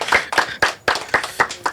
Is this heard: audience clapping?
yes